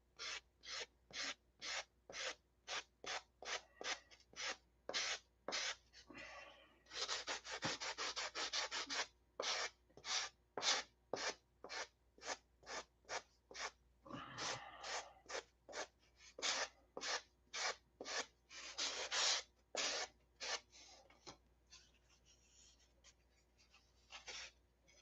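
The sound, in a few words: sanding foam flush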